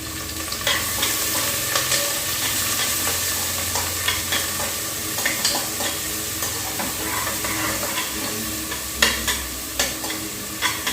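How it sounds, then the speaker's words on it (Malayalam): Sautéed onion, curry leaves, green chilli and ginger stirred in a pan for broken wheat upma: a steady close sizzle of frying under repeated soft scraping strokes of a spoon, with no speech. "സവാള, കറിവേപ്പില, പച്ചമുളക്, ഇഞ്ചി എന്നിവ ഇട്ട് കൊടുത്തിട്ടുണ്ട്. എല്ലാം കൂടി നമുക്ക് ഇളക്കി യോജിപ്പിച്ച് കൊടുക്കാം."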